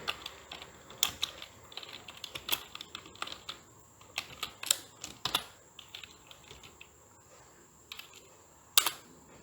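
Computer keyboard typing VBA code, a sparse run of light, close key taps with short pauses and a sharper click near the end, faint and quiet.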